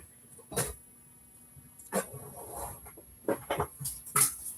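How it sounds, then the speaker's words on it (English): Several short, faint barks from pet dogs in a home, heard indoors at a distance in scattered bursts, with a longer cluster of quick yaps near the end. "my dogs are gonna start barking"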